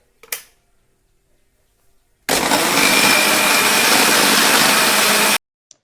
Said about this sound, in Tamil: பாருங்கள், அதே மாதிரி பெரிய ஜாரில் போட்டு அடுத்தடுத்து போட்டு நல்லா அடித்து எடுத்தாச்சு.